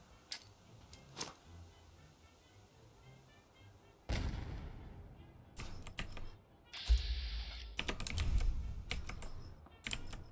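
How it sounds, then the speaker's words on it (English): Bursts of gunfire in a video game set in the Fallout universe, several sharp loud cracks and thumps scattered across the clip, with a few lighter clicks and a low background hum and no talking. "I'm pretty sure those gunshots are Paladin Dance and his two cronies."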